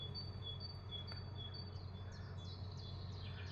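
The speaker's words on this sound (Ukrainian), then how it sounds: "Добре чути спів пташок." Birds sing in the early morning before sunrise, faint repeated whistles and chirps over a steady insect drone and a low background hum.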